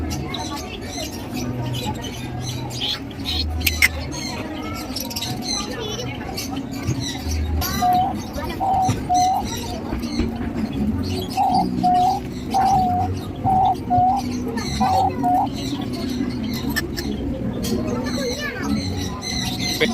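Caged birds call and a dove coos in short repeated phrases at a bird park in Kollam, Kerala, moderately near, mixed with people talking and background chatter throughout.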